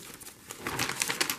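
Plastic bag crinkling up close, soft rustling that grows into louder crackly bursts over a second or so, with no talking.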